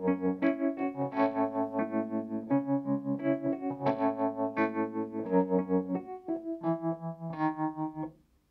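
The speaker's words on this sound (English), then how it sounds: "that's classic Wurlitzer sound, where I've got tube distortion coming from the amp" Wurlitzer electric piano chords played with a pulsing tremolo and gritty tube amp distortion through a Hughes & Kettner TM20H Tubemeister Deluxe 20, steady and close, with no voices.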